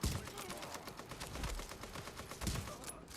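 Rapid automatic gunfire in a shooter video game set in an open-world city, sustained bursts of close, sharp shots with heavier thumps mixed in, ending abruptly.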